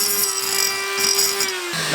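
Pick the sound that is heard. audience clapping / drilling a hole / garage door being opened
drilling a hole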